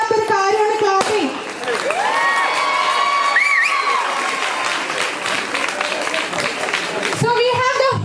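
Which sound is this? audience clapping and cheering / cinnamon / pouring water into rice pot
audience clapping and cheering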